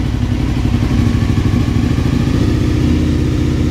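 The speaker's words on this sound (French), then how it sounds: "là, vous mettez un peu de régime." Engine of an Aprilia RSV Tuono Falco 1000 (first generation) motorcycle held at a steady raised idle, a loud, continuous low throbbing drone with dense clattering pulses, close by and with no talk.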